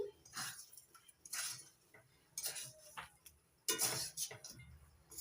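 A spoon stirs garam masala into murighonto, producing faint intermittent scraping and soft clinks against the pot in short bursts.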